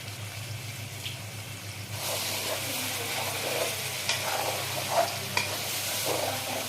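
Chicken meat with salt and turmeric is stirred in a hot pan for a Mishing chicken dish, a steady sizzle joined partway through by louder scraping stirs and a few sharp clicks, close and without talk.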